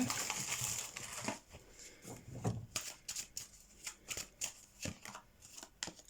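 Oracle cards are shuffled close up during a tarot reading, a dry papery riffle and rapid rhythmic card flicks and slaps, fairly quiet, with no talking.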